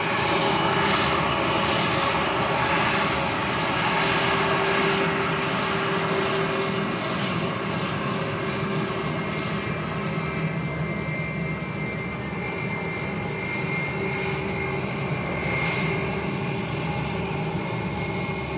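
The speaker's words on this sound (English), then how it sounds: "Now these A321s tend to make a bit more noise than the normal A320s." An Airbus A321 jet roars steadily at Lanzarote Arrecife airport, a loud, sustained engine drone with a whining tone, heard alone and close for the whole stretch.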